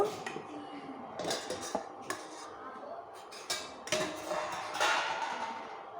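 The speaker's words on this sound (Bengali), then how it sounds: "ঢাকনাটা তুলে নিব" A metal lid is lifted and set down on a pot of milk heating for homemade paneer, giving several sharp clinks and clatters with quieter gaps between them.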